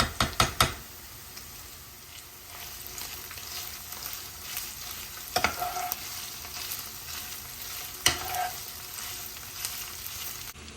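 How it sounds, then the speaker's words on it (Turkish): Peppers and tomato paste sizzle steadily in a pan, punctuated by a few sharp knocks and stirring scrapes of a utensil against the pan, close up. "Biberlerimi ekledikten sonra biraz daha kavuruyorum."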